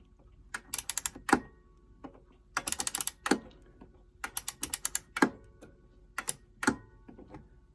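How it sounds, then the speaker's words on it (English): Key winding the spring of a 31-day Westbrook chime clock from about 1978, giving close, loud bursts of quick ratchet clicks in short runs separated by brief pauses as the mechanism tightens. "let me see what I can do with this, and started to wind it. And it's actually tightening up a bit."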